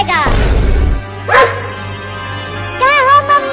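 A dog barks in an animated comedy scene about a dog, a cat and a mother, with sharp bark-like bursts near the start and a later yelp, mixed with excited voices and a steady background hum.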